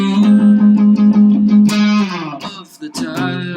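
Electric guitar plays a riff, a steady chugging pulse of repeated low notes for about two seconds, followed by a few sharp, accented chord stabs and a sustained ringing chord.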